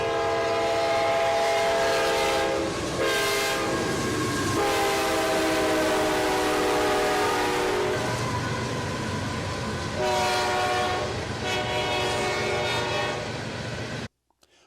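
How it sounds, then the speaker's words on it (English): A train horn blares in long, sustained tones as the train passes, the pitch dropping noticeably as it goes by, with a steady rumble of rail cars underneath; the sound cuts off abruptly at the end. "you saw the train, which had the horn."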